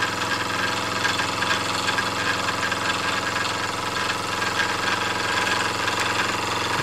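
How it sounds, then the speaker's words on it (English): Bowman M101 single-cylinder, single-acting oscillating steam engine with a massive brass flywheel, running steadily with a continuous close mechanical chugging hum and rapid even beat, no voices. "it runs quite smoothly. given that it's a single cylinder, single acting oscillating cylinder"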